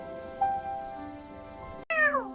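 A kitten meows twice, a long drawn-out plaintive cry followed by a shorter, higher one, close and clear over faint background noise.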